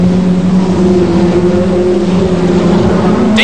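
A Ford Sierra Cosworth RS500 touring car racing at high speed in the British Touring Car Championship, its engine a steady loud drone heard from onboard, holding a constant pitch throughout.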